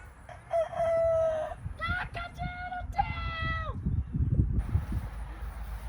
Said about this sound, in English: Just hearing the rooster croak